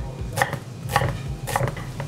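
Carrots chopped into small cubes on a cutting board for lasagne, with about four crisp knife strikes spaced roughly half a second apart over a low background hum.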